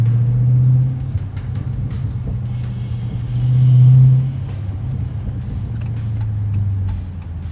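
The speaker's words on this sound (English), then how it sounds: "Love the exhaust sound." A Dodge Challenger Widebody's exhaust rumbles low and steady while cruising on a rainy evening, swelling into a louder growl for a moment before settling back to a deep drone.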